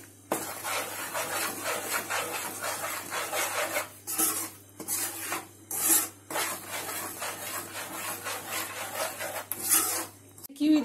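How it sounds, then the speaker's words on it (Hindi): A spatula scrapes and rasps steadily against roasting moong dal in a hot kadhai with the gas turned off, a continuous close stirring rub with brief pauses and no talk. "इसे कंटिन्यू चलाते हुए सेकें"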